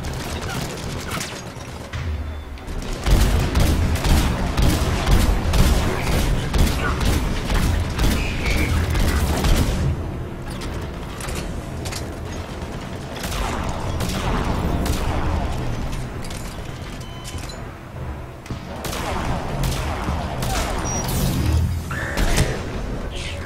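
Mass Effect 3 battle on Earth: heavy enemy gunfire and booming explosions pound away in dense rapid bursts, loud and sustained, with mechanical clatter and brief surges of heavier blasts.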